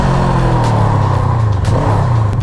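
Engine of an FKM Glider 500S big bike motorcycle while riding, a loud, steady low rumble with a slight rise in revs, close and continuous, with no talk over it.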